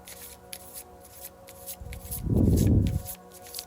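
Oracle cards riffle and shuffle close by, a rapid papery flutter that swells into a louder burst near the end.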